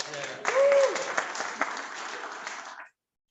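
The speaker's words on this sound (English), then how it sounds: "Let's give a round of applause there." A brief round of applause at a Florence Rotary Club noon meeting, a short burst of clapping from the room that fades out after a few seconds, with some voices mixed in.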